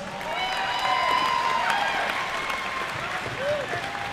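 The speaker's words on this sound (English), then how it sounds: "Give it a round of applause." Crowd applause with some cheering follows an amateur fight, steady clapping and shouts throughout, with voices mixed in.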